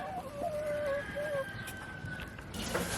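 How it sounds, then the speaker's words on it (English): A farm setting with pastured layer hens, where one rooster's call rings out as a drawn-out crow-like cry at moderate distance, with scattered clucks and fowl sounds and no talking. "With one proud rooster in the background."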